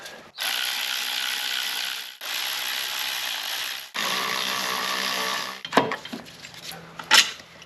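A ratchet loosens a 14 mm nut on a Subaru Outback engine during an engine swap, with three long bursts of rapid clicking pawl close up, followed by a few metallic clanks and taps.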